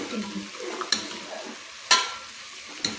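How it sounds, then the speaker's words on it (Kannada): Half a tomato frying in hot tempering oil in a pan, a soft steady sizzle broken by three sharp clinks of a utensil against the pan, close up with no talking. "ಒಗ್ಗರಣೆಗೆ ಒಂದು ಹಾಫ್ ಟೊಮೊಟೊ ಹಾಕೊಂಡು ಈ ಥರ ಫ್ರೈ ಮಾಡ್ಕೋಬೇಕು"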